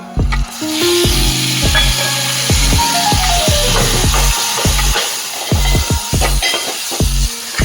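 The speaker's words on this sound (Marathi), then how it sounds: "मसाले परतून घेऊ." Spices with turmeric sauté in a pan on the stove. A steady loud sizzle carries repeated metallic scrapes and clinks from a spoon stirring against the pan, up close with no talking.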